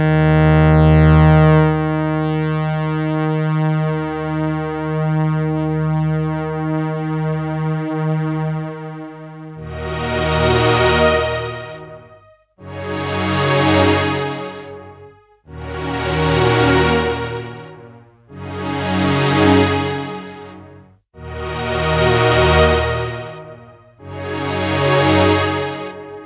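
A Casio HT-6000 synthesizer plays a basic sawtooth waveform, first as one long sustained chord, then as five swelling detuned chords with slow fade-ins, loud and bright with no voices.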